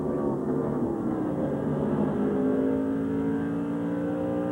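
A Chevrolet stock car in a 2000 NASCAR Busch Series race at the Napa Auto Care 250 accelerates away from a pit stop, a loud, steady engine roar rising in pitch over several seconds with no voices.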